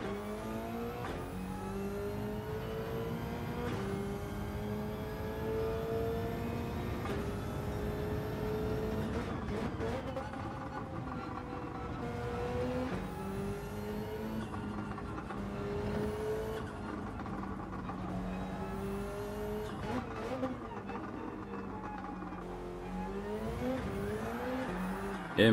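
Race car engine revving and surging on the Autopolis circuit in a racing video game, a steady loud drone that rises and falls in pitch with repeated upshifts and throttle swells, with no talk.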